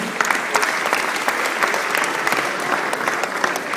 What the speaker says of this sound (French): Merci papa, on peut l'applaudir.